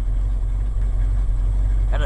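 A stock 1980 Ford F100 with a 302 two-barrel V8 runs with a steady, low, rumbling idle close by, its rough throb heard alone until a brief noise at the end.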